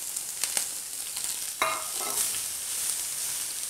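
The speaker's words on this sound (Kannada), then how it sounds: "ಈ ಕ್ಯಾರೆಟ್ ಇದರಲ್ಲೇ ಫ್ರೈ ಮಾಡಿ ಸ್ವಲ್ಪ ಬೇಯಿಸೋಣ." Grated carrot frying in a pan, a low, even sizzle with a few scraping stirs and one sharp clink of a spoon against the pan, close and fairly quiet.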